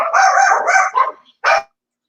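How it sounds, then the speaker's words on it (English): A dog barks in a short burst of several quick yaps, then one more sharp bark after a brief pause, loud and close with no talk over it. "Doggy wanting attention."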